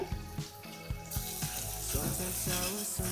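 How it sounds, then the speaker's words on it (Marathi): Chopped onion with salt sautéing in a pan at home, a steady sizzle that swells partway through, with intermittent clinks and scrapes of stirring close by. "अजून थोडा वेळ परतू देते"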